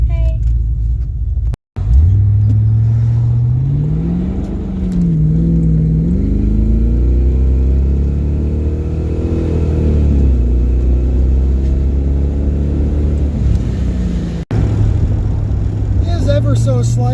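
A Mustang with stock exhaust, Flowmaster mufflers and 2 1/4-inch piping idles with a deep, close rumble, then revs up and settles in smooth rising and falling sweeps before returning to a steady idle.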